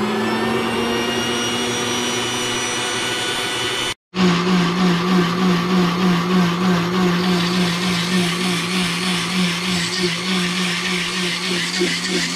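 An electric mixer grinder whirs loudly as it grinds green chutney with cumin, a steady high motor drone that cuts out briefly, then restarts with a lower, heavier pulsing churn.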